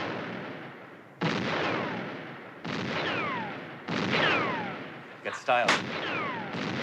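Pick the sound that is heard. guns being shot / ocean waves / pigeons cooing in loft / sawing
guns being shot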